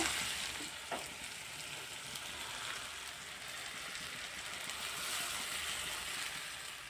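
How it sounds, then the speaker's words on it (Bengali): Boiled chow mein noodles fry in a hot pan with a steady, broad sizzle, softly stirred now and then, with a brief louder scrape near the start; no voices. "এখন সেদ্ধ করে রাখা চাউমিনটা দিয়ে দেব।"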